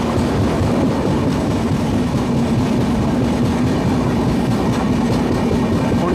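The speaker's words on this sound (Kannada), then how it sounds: "Palace bin Hum suffer express." A Humsafar Express passenger train rolls past close by, a loud continuous rumble of wheels and coaches with clattering rail noise, with no voices.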